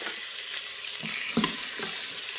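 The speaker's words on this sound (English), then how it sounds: "we're going to go ahead and add our beef short ribs to it, and we're going to brown them on all sides" Beef short ribs browning in olive oil inside a pressure cooker, a steady soft sizzle with a few faint stirring knocks, close and alone.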